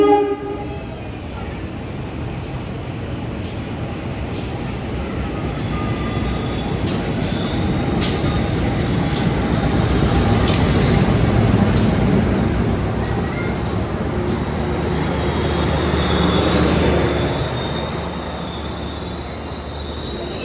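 Inside an Indonesian economy class train from Cimahi to Jogja, a loud, continuous rumble of wheels on track carries on, with sharp rhythmic clicks at rail joints and a long horn blast toward the end.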